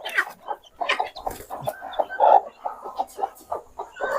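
A hen clucks repeatedly in short, rhythmic bursts, close and fairly loud, with no talking, near day-old chicks.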